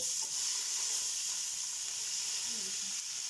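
Vegetables sizzle in hot oil for a Chinese-style biryani, a steady broadband frying hiss that holds evenly throughout at close range, with no talk over it.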